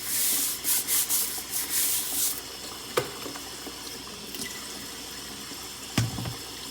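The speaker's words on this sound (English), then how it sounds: "Brush abrasive out of your diamond plate." A brush scrubs loose abrasive off a diamond sharpening plate used for honing a razor, with bursts of rough rubbing at the start, then quieter scraping and a few sharp knocks, no voices.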